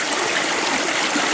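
Water sloshing back and forth in a gold pan being shaken by hand during gold panning, a steady close wash of splashing liquid across the whole moment with no voices.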